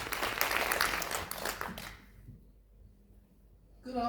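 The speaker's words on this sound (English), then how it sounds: "Let's give her a round of applause." Audience applause at a World Standards Day event, a fairly faint crowd clapping that fades out after about two seconds, followed by quiet room tone.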